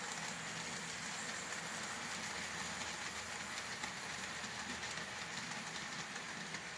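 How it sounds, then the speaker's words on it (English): An N scale model Amtrak rainbow-era passenger train running on a home layout, a steady continuous rolling hum and rumble of wheels and motor throughout, close and even with no talking. "One of my favorite jobs is to run period correct Amtrak rainbow era trains."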